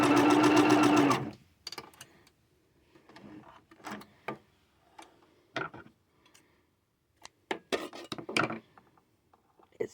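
A sewing machine runs a long basting stitch: a loud burst of stitching at the start, then sparse clicks and taps from handling the machine and fabric, close and quiet.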